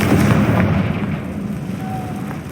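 Confringo fire spell blast cast in Hogwarts Legacy, a loud booming burst at the start that rumbles on as a sustained low roar through the rest of the moment, with no talk.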